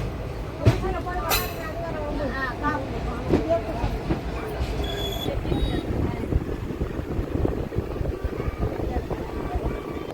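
The Meenakshi Express running after Katpadi Junction toward Vellore Cantonment, a continuous rumble of wheels and car noise with wind buffeting, squeaks and a few sharp clanks, heard from on board.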